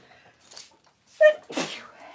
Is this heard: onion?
no